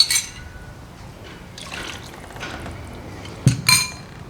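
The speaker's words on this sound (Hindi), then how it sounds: "इसमें तकरीबन आधी प्याली पानी डाल देंगे" About half a cup of water poured into a cooking pot with oil and chicken for a matka biryani, giving a short liquid splash, soft trickling, and a couple of clinks of a vessel near the end.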